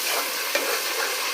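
Beef pulao base with yogurt frying in a pan, a steady dense sizzle with a brief stir or scrape partway through, close and continuous, no voices.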